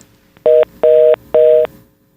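Three long, evenly spaced telephone tone bursts play loud and close in a broadcast studio while a dropped call is redialed, with a steady hum between them and no talk.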